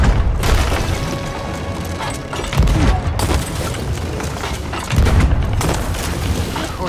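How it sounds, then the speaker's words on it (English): Ship cannons firing in a naval video game battle, heavy booming blasts landing in a few separate bursts over a continuous roar of water and mechanisms, loud and near. "Hit him directly with a cannonball."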